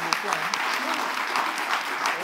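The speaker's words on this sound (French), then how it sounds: "Est-ce qu'on peut applaudir, s'il vous plaît?" Crowd at a Togocom live show applauds a prize winner, a broad wash of many hands clapping steadily at moderate volume, with a voice faintly underneath, then dropping away.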